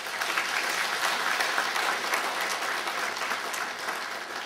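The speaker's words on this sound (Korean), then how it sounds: "큰 박수 한번 주십시오" An audience at a literary anthology launch and lecture gathering applauds, a dense, steady burst of clapping sustained throughout without talk.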